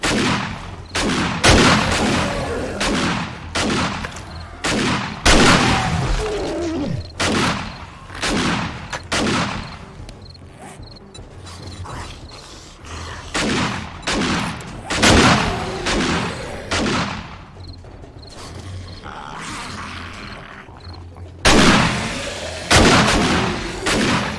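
Repeated bursts of gunfire during a zombie horde attack in the survival game 7 Days to Die, loud, close shots fired in uneven clusters with short gaps between volleys, continuing throughout.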